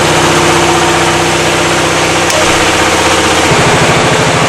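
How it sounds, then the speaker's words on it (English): Air-cooled single-cylinder diesel engine coupled to an eddy current dynamometer runs steadily near 1500 rpm, a loud, constant close-up chugging drone with a rapid low pulse and broadband mechanical clatter throughout. "Engine and eddy current dynamometer are coupled."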